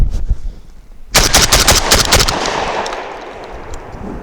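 An SDS Imports Lynx 12 semi-automatic 12-gauge shotgun fires a rapid string of about six loud, sharp blasts in close succession, with a ringing echo trailing off afterward; no speech.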